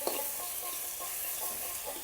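Mankochu taro stem frying in a pan with cumin and chili powder gives a steady close sizzle, with occasional stirring scrapes and no talking.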